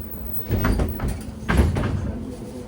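Doors of a BKM-321 trolleybus in Minsk closing, heard as two heavy thudding, rumbling door movements about a second apart, fairly close and loud with no talking.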